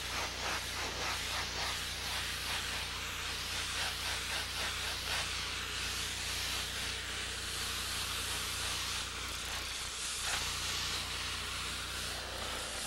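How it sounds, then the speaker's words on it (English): An airbrush sprays broad areas of weak color onto a portrait painting, a continuous close airy hiss that pulses slightly with the strokes and briefly drops near the end. "I'm spraying pretty broadly here,"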